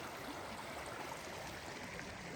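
A creek at a backcountry campsite flows steadily with a soft, continuous rushing hiss, faint and even, with no voices.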